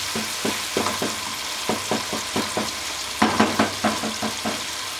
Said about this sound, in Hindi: टमाटो को थोड़ा सा नरम कर लेंगे अच्छी तरह